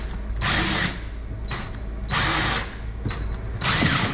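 A power drill drives fasteners while a big cargo box is mounted on a 2026 Can-Am HD11 Defender Limited, three close, loud whirring bursts separated by short pauses.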